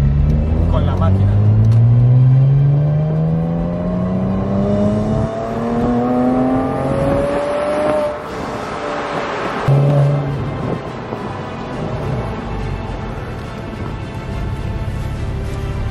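A Porsche Boxster S with a 3.2-litre naturally aspirated engine driving open-top, its engine note rising steadily through the gears with loud revving sweeps, while someone talks over it.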